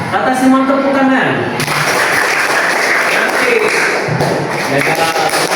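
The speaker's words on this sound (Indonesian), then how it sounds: "Kata Simon tepuk tangan." Students in a classroom clap their hands during a Simon Says game, a dense burst of hand claps mixed with voices, with a few thumps and taps.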